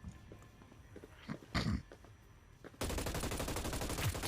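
Automatic weapon fire from the Hyperscape video game, starting abruptly partway through and continuing as a loud, steady rapid burst of shots after a quieter stretch of low game ambience.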